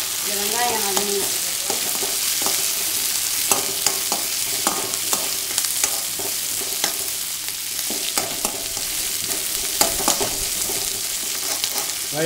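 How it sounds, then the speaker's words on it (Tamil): Salted onions sizzle in a hot pan, a continuous loud frying hiss broken by scraping stirs and clinks of a spoon against the metal, with no talking. "கொஞ்சம் வதங்கினோடனே இந்த வெங்காயம் வதங்கணும்."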